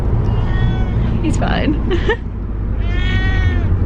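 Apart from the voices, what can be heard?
cat meowing in the car on way to vet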